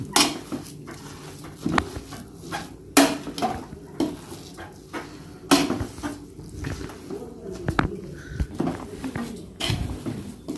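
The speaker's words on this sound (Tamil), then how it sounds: "நம்ம கிண்டி விட்டிக்கலாம்." Vegetable biryani rice being stirred in a pot, with scattered scraping clanks and soft knocks of a spoon against the metal pot, irregular and close, with faint background noise.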